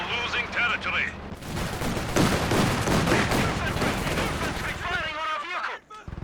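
Gunfire in the strategy game Company of Heroes 2 during a 2v2 match, dense overlapping shots and bursts clattering for several seconds, with game voices briefly heard before and after.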